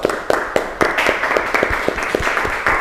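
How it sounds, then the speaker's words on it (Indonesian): A classroom group claps for the first student team after their presentation: loud, close, uneven hand claps with sharp individual strikes running continuously throughout. "Kita kasih aplaus buat kelompok 1"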